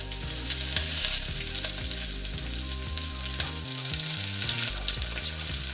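Curry leaves, mustard seeds and cumin sizzle loudly in hot oil as a continuous close crackle and spit under background music.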